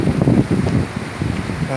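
Wind gusts buffet the microphone on an outdoor walk, a loud, steady rumbling roar with fluttering gusts that fills the whole short stretch, and someone talks faintly underneath.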